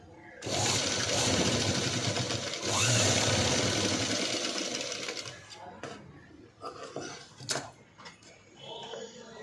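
A sewing machine stitches a sleeveless cut-work padded blouse, running loud and steady in a dense rapid whir for about five seconds, pausing briefly midway, then stopping as a voice talks over faint clicks and handling.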